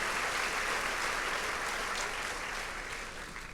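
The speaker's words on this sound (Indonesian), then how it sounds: "Boleh tepuk tangannya di extend buat tim praise and worship kita." Church congregation applauding the praise and worship team, a dense, sustained burst of many hands clapping, loud at first and easing slightly toward the end, with no voices.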